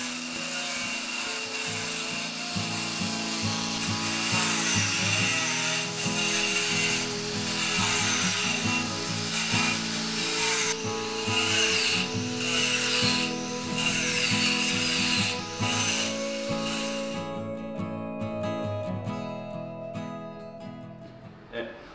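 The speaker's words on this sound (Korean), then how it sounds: "지금부터 그라인더 작업을 시작할게요" Angle grinder running continuously during an interior renovation, a loud, steady abrasive whine with rasping grit that fills the space for most of the span, then cuts out near the end leaving a faint hum.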